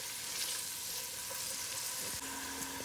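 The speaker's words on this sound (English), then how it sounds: "So we're gonna caramelize the onions a little, and then we're gonna start building flavors." Onions caramelizing in a pot, ahead of chicken, basmati rice and kidney beans, make a quiet, even sizzle that runs steadily over a low background hum.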